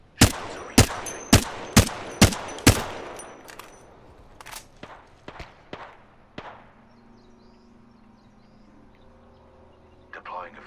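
Rapid gunshots from an Apex Legends battle, about six sharp, loud reports in quick succession, then scattered fainter shots trailing off into quiet.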